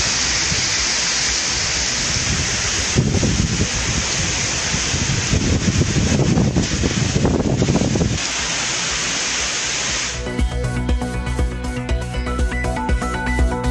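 Heavy rain with hail pounding down in Thudiyalur and Periyanaickenpalayam near Coimbatore, a loud, dense continuous roar that gives way near the end to a steadier, tonal sound.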